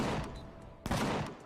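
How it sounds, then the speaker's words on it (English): A base-mounted cannon in Empyrion Galactic Survival fires in loud booming bursts, with a sharper blast near the middle of a brief flurry. "Stop shooting my cannon!"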